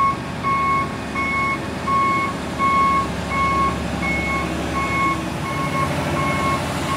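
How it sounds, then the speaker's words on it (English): A dump truck's reversing alarm beeps steadily at a road paving site, a regular series of loud tones over a low engine rumble from construction equipment, with no talk. "This one here is called a dumpster truck."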